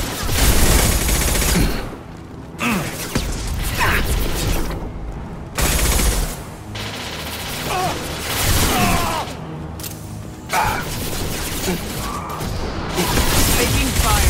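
Gunfire in Mass Effect 2 during Jacob's loyalty mission: loud bursts of automatic and single shots with booming impacts come in rapid clusters, broken by short lulls, with shouted voices over the battle.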